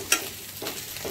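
Chettinad chicken frying on high heat with curry leaves as it is stirred, a sharp scrape near the start and two softer stirs later over a faint, steady sizzle.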